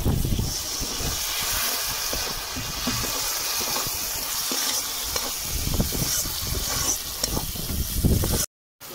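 A small splash of water hits hot chili powder and spices in a pan for a Bengali kochur loti dish, setting off a steady, close sizzle and hiss with stirring scrapes throughout, ending abruptly.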